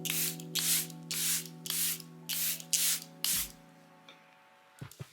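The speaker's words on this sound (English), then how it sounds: "What I do is I'm gonna spray my face." Six quick hissing bursts from a setting spray bottle misting a face in a steady rhythm, close by, followed by a few soft handling noises over a faint background hum.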